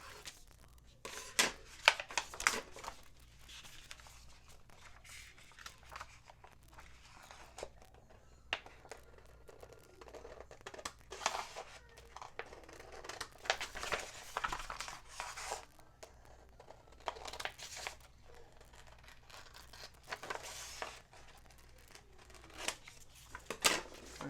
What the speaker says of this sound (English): Actually, let me cut it right now.